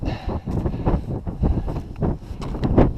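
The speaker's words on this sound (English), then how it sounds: "It's getting windier." Gusty wind buffeting the microphone on the Abol Trail up Katahdin, a steady rumbling roar that rises and falls in irregular surges for a few seconds, close and fairly loud, with no voices.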